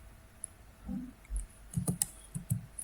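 Computer keyboard keys clicked while typing PHP code, a few scattered soft taps then a short burst of quick keystrokes, close and fairly quiet.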